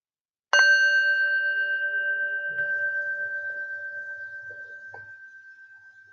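A meditation bell is tapped once and rings out with a long, slowly fading tone, clear and close in otherwise quiet surroundings, with a faint second touch near the end.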